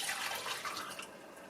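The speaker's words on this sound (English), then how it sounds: "I'm just going to go ahead and pour out now the vinegar." Vinegar poured out of a Porsche 944 headlight housing, a brief, faint trickling splash of liquid lasting about a second and a half with no one speaking.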